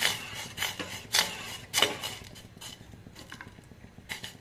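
A spoon stirs a homemade milk-based cough and cold remedy in a pot over a low flame, giving a few sharp clinks and scrapes against the metal early on, then softer, sparser stirring.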